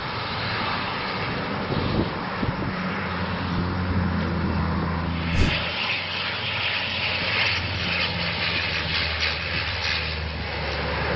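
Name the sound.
firefighting plane flying low over forest fire in Croatia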